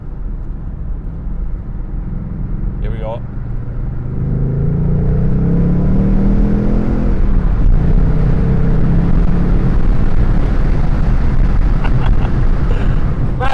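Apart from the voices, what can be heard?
Ford Mustang Bullitt V8 engine roaring, heard through open window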